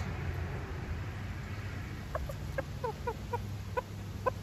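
A bantam rooster gives a run of short, quick clucks over a constant background hum, moderately close.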